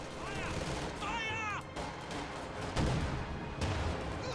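Gunfire rattles through a Company of Heroes 2 battle as German grenadiers fire on an American captain's squad, with continuous bursts and impacts under a commentator's voice.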